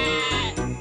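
A sheep in a Thomas the Tank Engine video game lets out a loud, wavering synthesized bleat, close and clear, with a slight break partway through.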